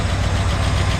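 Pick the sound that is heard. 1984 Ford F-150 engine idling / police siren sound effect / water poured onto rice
1984 Ford F-150 engine idling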